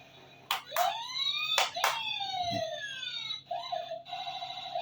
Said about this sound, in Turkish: Evet acil durum araçlarının sesleri çıkıyor değil mi anneciğim? Ambulans, itfaiye, polis.